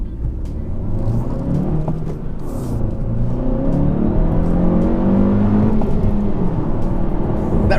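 A 2017 Honda Civic Si engine revs steadily and loudly, its rumbling, whirring note swelling and holding with rev hang, continuous throughout without speech.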